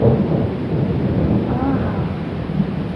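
Thunder rolls through a thunderstorm, a continuous low rumble with rain behind it that stays loud and steady for the whole stretch.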